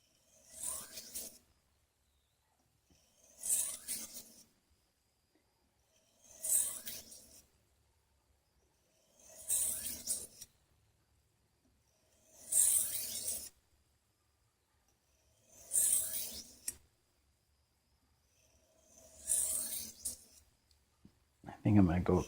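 A knife blade is drawn across a sharpening stone in eight evenly spaced strokes, each a crisp, close gritty scrape separated by quiet pauses.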